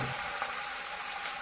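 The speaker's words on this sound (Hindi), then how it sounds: "अब हम फ्राई करना स्टार्ट करते हैं" Manchurian balls deep-frying in hot oil in a kadhai, giving a brief, faint, even bubbling sizzle with no voices.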